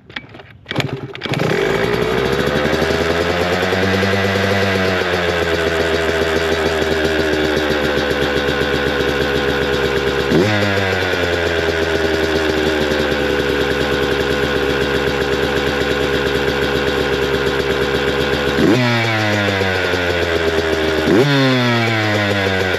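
A Yamaha YZ125 two-stroke dirt bike with a Boyesen RAD valve and Smartcarb fires up after a brief kick and idles loudly and close by, blipping the throttle into rising revs several times.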